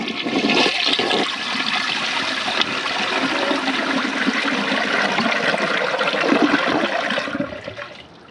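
Flush and rinse of a 1998 Ingenium toilet: a loud, steady rush of water swirling for about seven seconds, then tapering off abruptly into a quieter trickle at the end, with no talking.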